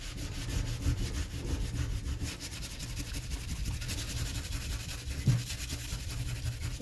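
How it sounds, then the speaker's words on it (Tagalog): Rusty metal is scrubbed continuously with a salt, baking soda and soap paste, giving a steady, close, gritty rubbing texture with no pauses and no voices. "Kuskusin natin."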